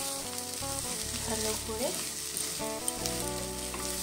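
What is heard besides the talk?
flat beans and shrimp being mixed and fried in oil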